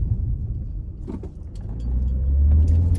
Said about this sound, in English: we got a little traffic right there. I see a little traffic.